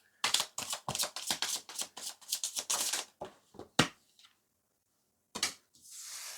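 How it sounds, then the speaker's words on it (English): Tarot cards shuffled close by in a string of sharp, rapid papery slaps and riffles, thinning into a few separate taps followed by a soft sliding rustle at the end. "I'm just gonna shuffle this across."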